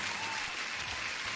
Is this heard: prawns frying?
no